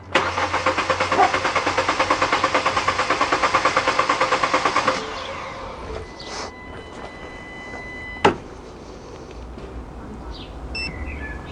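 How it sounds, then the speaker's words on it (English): A starter motor cranks a vehicle's engine in a fast, steady rhythmic chug for about five seconds, then stops, leaving a quieter hum and a single sharp click. "Hit the record, that'll give us our min max, and we'll crank the vehicle."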